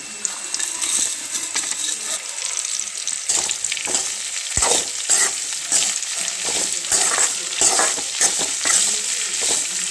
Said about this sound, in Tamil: நான் போட்ட வெங்காயமும் நல்லா வதங்கிடுச்சுங்க